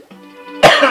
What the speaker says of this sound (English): Jeez, I'm coughing so much. I'm still coughing.